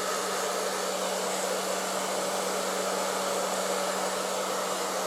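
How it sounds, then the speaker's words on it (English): An ETI Turbodryer professional hair dryer blows steadily on a low setting, an even airy whoosh with a faint hum underneath, running without pause. "but it's a pretty quiet hairdryer"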